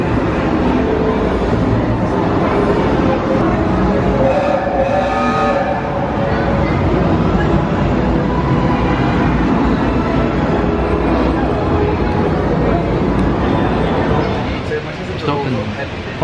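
Steady rumbling ride on the Hogwarts Express train at Universal, a continuous rolling clatter and hum with no break that eases off near the end, with faint voices under it.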